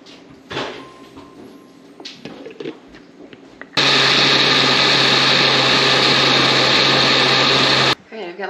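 Fermented Tabasco peppers being ground in an electric grinder: after some handling noise, a loud, steady motor whir runs for about four seconds and then stops abruptly.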